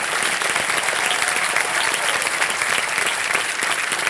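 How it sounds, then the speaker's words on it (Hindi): A studio audience on the KBC game show set breaks into loud, dense applause, a continuous roar of many hands clapping throughout with no voices over it. "चलिए जोरदार तालियों के साथ let's welcome our new host of KBC."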